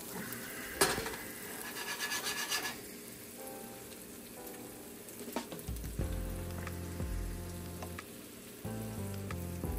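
Eggs sizzle steadily in a hot pan after a flip, broken by a few clinks of a utensil against the pan and a low hum of kitchen background noise.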